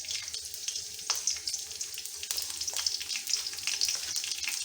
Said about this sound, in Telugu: సో ఆయిల్ వేడైంది. 2 పచ్చిమిరపకాయ ముక్కలు